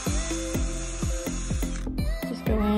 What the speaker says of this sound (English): So here's where I'm gonna be drilling.